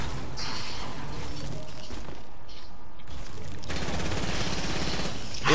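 Video game gunfire sounds as dense, continuous bursts of rapid automatic shots and booms, loud and sustained throughout.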